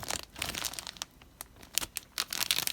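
Plastic vinyl packaging of an HG Kämpfer model kit crinkles close up in quick, irregular crackling bursts, with short quiet gaps between them and no talking.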